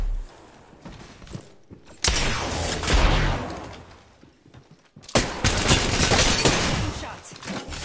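Apex Legends firefight: sharp, loud bursts of gunfire with heavy sustained blasts starting around two and five seconds, between quieter moments of movement and scattered thumps.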